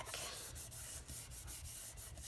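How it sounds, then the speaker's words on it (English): Fingers rub steadily over the back of a polystyrene foam printing tray, giving a close, continuous soft scuffing with faint rhythmic strokes and no voices. "going to burnish over the back. Just use your fingers to do it."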